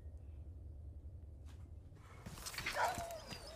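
Dog or wolf in a video game whimpering and yelping in a short burst near the end, following quiet low rumbling game ambience.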